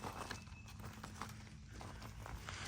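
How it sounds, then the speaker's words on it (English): Horses walking up, a soft uneven clip-clop of hooves close by over a low background rumble, with no speech. "the horses are coming to say hey"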